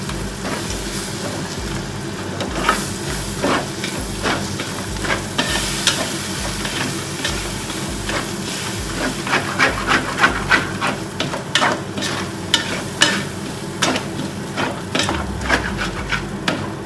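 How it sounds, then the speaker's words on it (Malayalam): Onion and tomato paste is stirred in a hot pan for a fish rice dish, with a constant sizzle under repeated rhythmic scrapes and knocks of the spoon that grow busier in the second half, close with no speech. "എല്ലാം നല്ലതുപോലെ മിക്സ് ചെയ്തെടുക്കാം"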